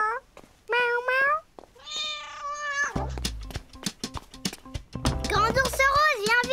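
A cartoon character imitates a cat's meow with several high, bending vocal cries, mixed with other cartoon voices and sound effects, all close and fairly loud.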